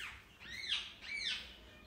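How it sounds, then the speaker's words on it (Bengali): A pet bird calls out twice indoors in the dark, with two rising-and-falling screechy cries in quick succession, fairly faint against a quiet background. "এই জন্য মিঠু আবার চিৎকার করছে, ওদেরকে ডাকছে।"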